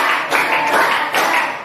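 Children in an Indonesian classroom clap a counted rhythmic pattern together, bursts of group clapping rising and falling over steady room noise.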